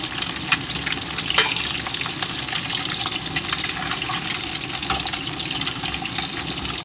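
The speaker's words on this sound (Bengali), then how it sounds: "ভাজা প্রায় শেষ, নামাই ফেলবো এখন।" Eggs frying in oil for an egg korma sit near the end of cooking, giving a steady, dense crackling sizzle that holds at an even level throughout, with faint stirring clicks and no talking.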